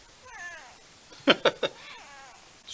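A cat meows several times up close, a drawn-out wavering call followed by three short, sharp, loud meows in quick succession and a final trailing cry.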